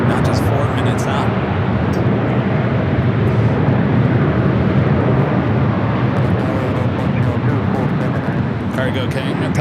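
A TAP Air Portugal heavy airliner, flight 247 from Lisbon, lands at Los Angeles LAX, with a Cargo King also touching down on the south side; steady broad jet roar fills the whole stretch, loud and continuous, with a voice talking over it.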